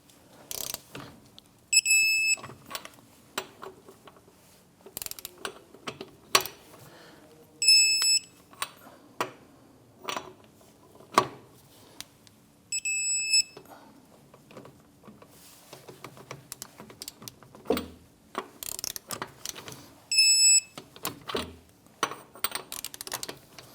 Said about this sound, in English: Let's go ahead and torque down our lug nuts to 80 foot-pounds.